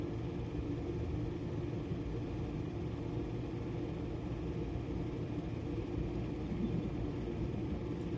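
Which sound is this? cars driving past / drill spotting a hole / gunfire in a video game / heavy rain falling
cars driving past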